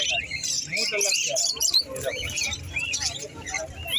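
Many small exotic pet birds, including parakeets, chirp and twitter at an outdoor bird market in Srirampur, a dense overlapping chatter of high calls that runs steadily throughout, with people talking faintly underneath.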